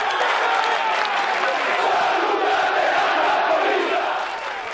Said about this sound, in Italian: E questi tifosi del Gubbio che insomma urlano salutate la capolista